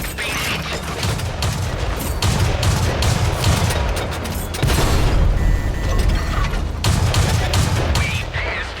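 Tank combat in World of Tanks with continuous heavy mechanical rumble and clanking, broken by repeated loud gunfire bursts and impact booms, dense and close throughout.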